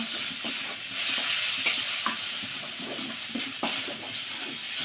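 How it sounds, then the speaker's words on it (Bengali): Pieces of pangas fish fry over low gas flame in a pan, a steady dense sizzle and crackle with occasional scraping stirs, close and continuous without talk. "গ্যাসে আঁচটা কমিয়ে দিয়ে আস্তে আস্তে সুন্দর করে এটা ভাজা ভাজা করে নেব"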